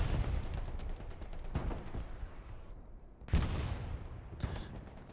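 Heavy artillery fire in the World War II shooter Hell Let Loose pounds in close, booming blasts with long rumbling tails, a couple of sharp impacts standing out over continuous battle noise.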